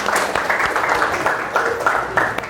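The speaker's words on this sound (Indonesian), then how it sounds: "Oke, tepuk tangan untuk kita semua." A class applauds together indoors, a dense, steady patter of clapping lasting a couple of seconds with a few voices mixed in.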